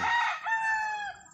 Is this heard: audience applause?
no